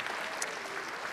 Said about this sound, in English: how about a quick round of applause for our musicians who provided our intro music this evening?